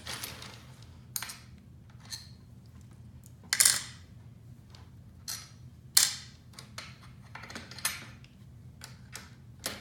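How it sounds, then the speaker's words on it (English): A wrench clicks and taps in quiet, scattered bursts during a MAKO360 bike part install, with short sharp metallic ticks separated by pauses and no talking. "This wrench makes it really fast."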